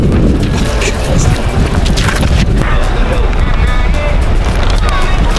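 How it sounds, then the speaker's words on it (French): Strong wind gusts buffet the microphone on a city street during outdoor portrait photography, a loud low rumbling roar that persists throughout while people talk over it. "ça revient le vent"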